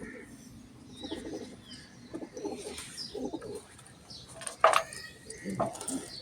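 Soft, throaty pigeon coos recur in short bursts nearby, fairly faint, with a sharper rustle or flutter midway and light background noise.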